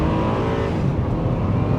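A 2004 Honda Accord EX V6 is heard from inside while driving, its engine giving a loud, steady drone with road rumble and no speech.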